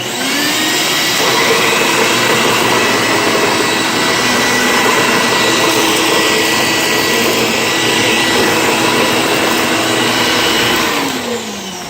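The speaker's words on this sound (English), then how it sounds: "start it up. It's generally a quiet vacuum." An Electrolux Special Edition vacuum cleaner, bought secondhand with a broken-off part, starts up and runs steadily with a loud, even whirring drone close by, winding down at the end.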